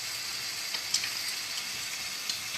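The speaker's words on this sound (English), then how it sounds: "How long are you frying them for?" Potato-filled curry items fry in a pan with a steady, even sizzle, broken by a few small pops and crackles. It is fairly quiet and close, with no talking.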